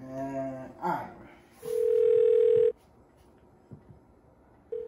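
A telephone is dialed to call someone: a brief tone, then a sustained steady dial tone lasting about a second, followed by quieter clicks and a final short beep, all close and fairly loud.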